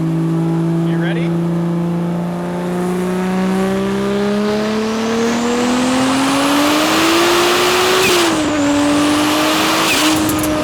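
A 1978 Datsun 280Z accelerates hard in third gear, its engine note climbing steadily in pitch for about eight seconds, briefly dipping at a shift or lift, then rising again, loud and close throughout.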